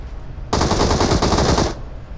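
Rapid automatic gunfire from the mobile battle royale game PUBG Mobile, a loud continuous burst lasting just over a second with no talking.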